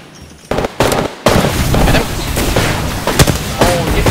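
Peacemaker shotgun blasts from Apex Legends, several sharp, loud booming shots in irregular succession amid dense game action and noise, with a voice talking over them.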